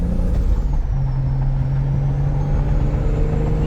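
Turbocharged Lexus IS300 pulling hard under load, a loud steady engine drone with a rising tone that holds for several seconds, close and continuous with no talking.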